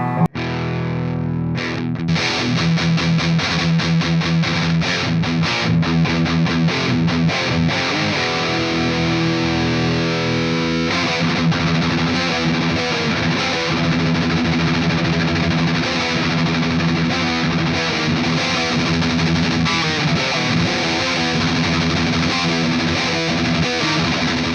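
Heavily distorted thrash guitar riffing through a Sunn Model T clone preamp driving an Orange power amp section, loud and continuous with dense chugging rhythm for the whole stretch, no talking.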